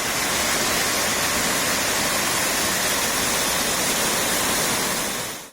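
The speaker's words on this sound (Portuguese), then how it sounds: "Neste outro estabelecimento, a água transborda entre as mesas." Floodwater rushing through a street and between tables after a brief hailstorm in southern Minas Gerais, Brazil, a loud, dense, unbroken roar of churning water that holds steady for several seconds before cutting off abruptly, with no voices.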